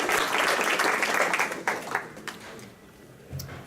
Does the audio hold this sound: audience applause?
yes